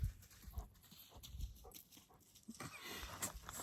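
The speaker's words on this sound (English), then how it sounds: "Stupid dogs." Dogs bark faintly somewhere in the distance, a few scattered yelps buried in broad background noise and clatter.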